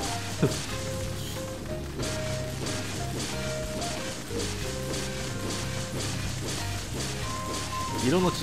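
Rain falls steadily in the rice-farming game Sakuna: Of Rice and Ruin, a soft even patter heard throughout beneath quiet game music and chimes.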